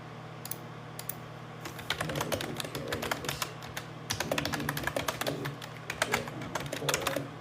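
Steady typing on a computer keyboard, bursts of quick key clicks with brief pauses, close and clear, no talking.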